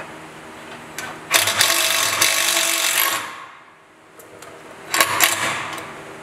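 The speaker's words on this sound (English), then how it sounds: "we're just going to go ahead and drill these in" A power drill drives self-drilling screws through thick aluminum into pre-drilled holes while installing boat trailer LED lights: two loud bursts of whirring and grinding, separated by a quiet pause, close to the listener.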